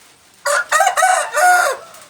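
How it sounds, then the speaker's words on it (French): A rooster in a village in Isan, Thailand, crows once loud and close, a full cock-a-doodle-doo in several rising segments ending on a long held note over a quiet background. "le coq, lui, il veut toutes les poules"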